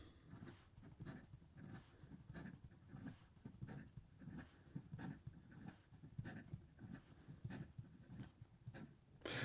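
Fast writing with an Opus 88 Koloro broad nib fountain pen on paper, a quiet run of quick, rhythmic scratchy strokes close up, repeating unevenly with no talk.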